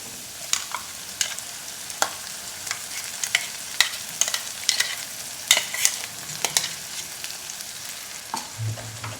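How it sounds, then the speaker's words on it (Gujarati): Green herb paste being stirred into soft cooked tomato gravy in a pan for hariyali dum aloo, a steady run of spoon scrapes and clicks over a low, constant sizzle, fairly close and with no one talking. "હવે સાથે આપણે બનાવેલી પેસ્ટ ઉમેરીશું"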